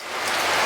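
Rain in an anime episode, a dense steady hiss of heavy rainfall that swells slightly louder over a brief moment, with no voices.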